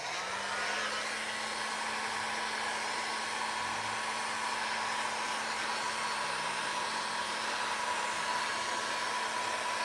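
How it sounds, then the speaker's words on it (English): Heat gun blowing hot air to dry paint, a steady close whooshing roar with a constant hum running unbroken and loud from start to finish, no voices. "I'm gonna hit it with my heat gun again, so bear with me on the noise"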